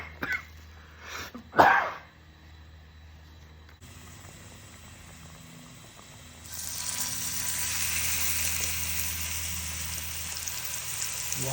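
Heavily seasoned steak sizzles in a hot pan: after a few brief knocks and bumps, a steady hiss starts midway and swells louder and denser toward the end, with no talking over it.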